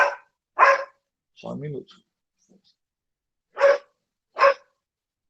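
A dog barks in short, sharp bursts in a home during an online lesson, a few separate barks spaced apart with a brief spoken remark between them.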